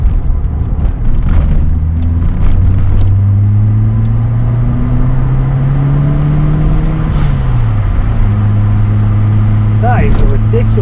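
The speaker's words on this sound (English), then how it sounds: "if I can be hearing the turbo that loud through here" The turbocharged engine of a MK3 Ford Escort RS Turbo drones loudly from inside the car, its tone rising and falling as it pulls, with a rising turbo whine and brief talk near the end.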